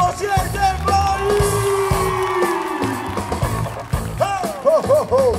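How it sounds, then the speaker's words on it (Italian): A live concert crowd in Pollena Trocchia yells, whoops and cheers loudly at an outdoor show, with voices rising over music and a performer's amplified calls between bursts. "Voglio un applauso, ma che sia quello più forte!"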